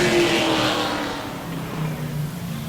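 A pro racing truck roars past on a qualifying lap at Auburndale, its engine note loud at first and then fading as it moves away, with no voices over it.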